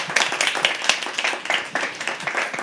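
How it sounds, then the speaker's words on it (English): An audience at a live poetry open mic claps at close range for a performer. The clapping is dense and rhythmic, with individual hand claps standing out, and lasts a few seconds. "Huge round of applause"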